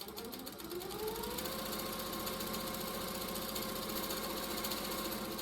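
A sewing machine runs fast and steady while machine quilting, its rapid needle rhythm humming close after a brief spin-up.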